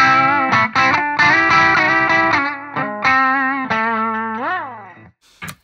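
Electric guitar with humbucker pickups through an H&K Spirit Nano amp at low gain, a series of sustained chords and bent notes with slight grit, ending with a brief pluck after a short gap.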